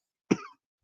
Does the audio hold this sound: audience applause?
no